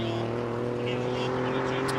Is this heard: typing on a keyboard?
no